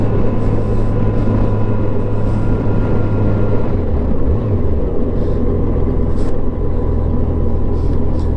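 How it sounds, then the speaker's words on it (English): Steady, loud low rumble of wind buffeting a rider on a 2007 Yamaha FJR motorcycle on the road, a continuous broadband roar with engine drone underneath and no speech. "I'm going to raise my windshield up a little bit, cut down on some of the wind noise"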